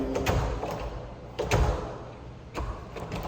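A door thumps and rattles a few times in uneven bursts, nearby, over a steady low background rumble.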